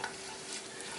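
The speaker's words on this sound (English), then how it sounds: "you definitely want to see this kind of action in the pan. You want to hear some sizzling" Pecans toasting in a pan give a steady, close sizzle with a soft crackle, running alone without any talk for about a second.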